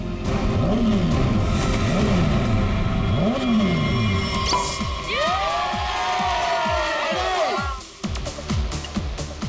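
Motorbikes racing in a staged street race, engines revving and whining past in repeated swelling passes, with crowd cheering and shouting mixed underneath.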